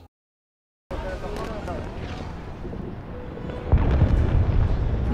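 Bomb explosions during an airstrike on Gaza rumble in the background of a played news clip, a continuous low roar with a heavier boom swelling near the end, beneath overlapping speech.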